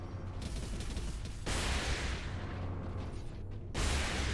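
Heavy laser cannon fire in the video game Warhammer 40k: Space Marine, two loud sustained bursts of dense, roaring blasts with low rumble, separated by a brief dip, with no talk.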